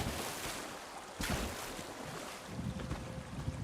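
A waterfall in Elder Scrolls Online's High Isle rushes in a steady, broad wash of white noise, close and fairly loud, with a slight surge near the middle.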